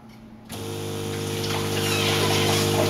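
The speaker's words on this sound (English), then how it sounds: "It's actually going to fill up with some more water," A JuiceTower smoothie machine fills with water after a silent moment, switching on with a steady rushing flow and a low humming pump tone that grow slightly louder as it runs.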